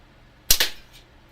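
Gunfire in a video game aimed at a bracelet, a single sharp, close snap followed immediately by a second crack, then quiet.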